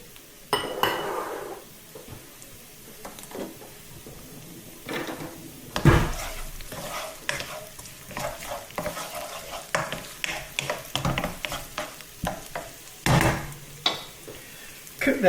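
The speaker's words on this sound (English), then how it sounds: "You'll just hear that there's a wee sizzle coming off the shallots." Shallots, garlic and chilli sizzle in a pan as the base for mussels in tomato and chilli sauce, with a steady close hiss broken by repeated spoon clanks and scraping against the pan.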